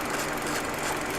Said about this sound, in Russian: Тут мотор троит